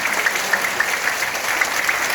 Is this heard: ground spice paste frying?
no